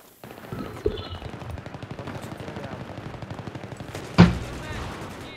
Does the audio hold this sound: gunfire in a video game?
yes